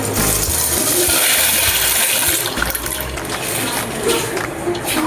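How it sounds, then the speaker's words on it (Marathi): Dry pasta tipped into a pot of water on a home stove, a loud rushing, splashing pour with clattering pieces lasting several seconds, close by, with no talk. "आता हे पूर्ण टाकायचं सगळं पास्ता"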